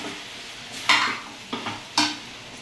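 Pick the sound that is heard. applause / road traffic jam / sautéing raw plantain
sautéing raw plantain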